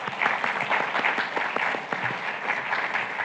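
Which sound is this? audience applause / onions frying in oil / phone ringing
audience applause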